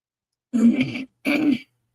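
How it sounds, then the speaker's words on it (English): A woman clears her throat twice, in two short, close, rough bursts separated by a brief pause, heard alone with no talk. "let me clear my throat for a minute."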